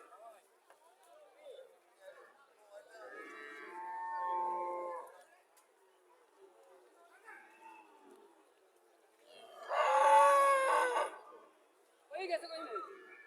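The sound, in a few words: cow mooing, Friesian dairy cow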